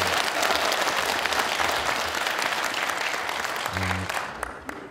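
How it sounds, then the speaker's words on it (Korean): An audience at a county-governor by-election candidates' debate in Gangjin bursts into steady clapping that tapers slightly toward the end, with a brief voice near the close. "그럼 박수 한번 쳐주십시오"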